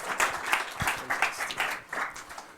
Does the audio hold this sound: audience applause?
yes